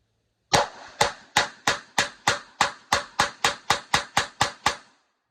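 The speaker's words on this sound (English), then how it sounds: "Feels good to have a Glock 22." Rapid string of about fifteen sharp, loud pistol shots from a Glock 22 fired in quick, steady succession, each crack ringing off briefly before the next, with no talking.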